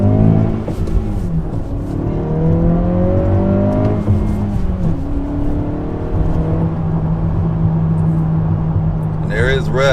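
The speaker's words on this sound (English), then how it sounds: "About to get on the highway one more again. Red line the whole way." An Acura Integra engine revving hard toward redline while merging onto a highway, rising in pitch through repeated pulls with brief dips at gear shifts, loud and close with someone talking over it.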